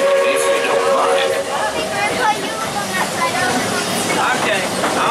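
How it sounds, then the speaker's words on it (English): The Walt Disney World Railroad steam train rumbles along with rolling clatter and rattling carriage noise, while a voice speaks over the ride. "I'll stay safe and sound right here aboard my train, if you don't mind."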